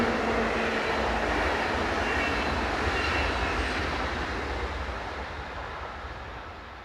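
Electric train unit 460093 running southbound past a European station platform, a broad steady rumble that slowly fades as it moves away.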